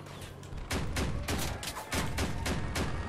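Cannon fire in the vehicle combat game Crossout comes as a rapid series of booming shots, roughly a dozen punchy blasts in quick, uneven succession, loud and close with a rumbling low end.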